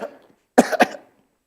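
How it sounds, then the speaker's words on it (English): A person gives a single cough in two quick bursts, close and fairly loud, with near silence before and after. "need to cough on this."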